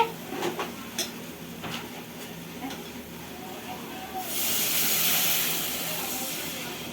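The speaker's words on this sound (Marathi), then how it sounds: "आता जर पाणी टाकते." Water is poured into a hot pan of chicken spiced with coriander powder, turmeric and chicken masala for a dry chicken dish, and a loud, steady steam hiss bursts up partway through after a few quieter kitchen sounds.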